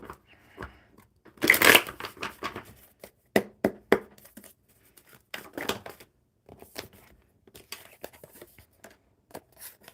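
Crisp shuffling and riffling of oracle cards, irregular quick flicks and taps, close and fairly quiet with a louder burst early on.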